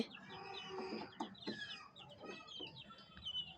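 Chickens cluck softly in a quiet series of short calls, close by, with no talk.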